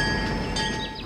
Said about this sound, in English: The train is moving at a high speed.